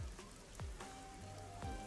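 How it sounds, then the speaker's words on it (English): Steady rain pours down on a gloomy town in the video game Rain Code, a dense even hiss with a few sharper drips and low thuds, continuous and unbroken by voices. "Heard that it always rains here."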